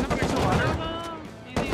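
Rapid automatic turret fire in the survival game Rust, a dense burst of loud close shots lasting over a second, with one more crack at the end and speech mixed in.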